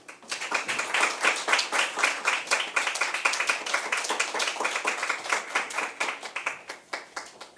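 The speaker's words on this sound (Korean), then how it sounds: "박수로 맞아주시기 바랍니다" Audience applause welcoming a keynote speaker, a former foreign minister, at an academic conference on democracy: dense, steady clapping from many hands that holds throughout and loosens into sparser claps near the end.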